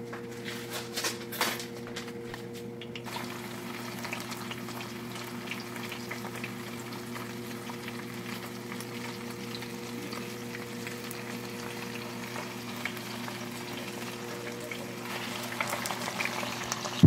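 Chorizo frying in heated manteca lard for frijoles puercos, a steady low sizzle and bubbling crackle at moderate volume with a few louder pops at the start, no talking.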